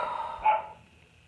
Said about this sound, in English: I wish my dog would stop barking.